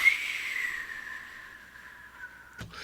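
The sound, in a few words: descending whistle imitating a stock price falling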